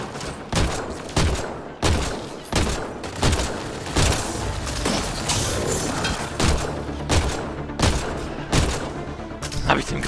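Gunshots in Mass Effect Andromeda, heavy punchy shots fired in a steady rhythm about twice a second with booming low thuds, loud and close, with faint talking in places.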